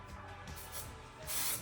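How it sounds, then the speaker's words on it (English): Hair product sprayed onto dry hair while styling curls with a flat iron: a soft, steady hiss that builds near the end, close and moderately quiet, with no talking. "if you spray that one when the hair is dry"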